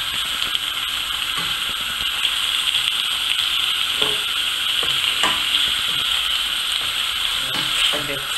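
Vegetables being stirred and fried in a pan for a vegetarian dish, a steady close sizzle running throughout with occasional scraping and clinking of the utensil against the pan.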